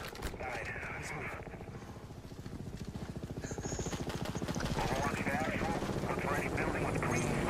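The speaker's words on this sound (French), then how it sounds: "Ouais bah vise pas l'hélicoptère, tu vas le rater mec." A video game helicopter's rotors beat in a steady, rapid thumping that grows louder toward the end, with people talking over the noise.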